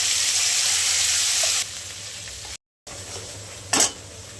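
Mustard seeds, cumin and masala sizzle in hot oil in a frying pan, a steady loud hiss that suddenly drops to a quieter crackle, breaks off briefly, then returns with a short clatter from the pan.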